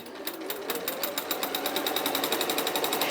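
A sewing machine stitches a quilt in a fast, even run, its needle clattering in rapid regular bursts that grow slightly louder, close by and with no talking.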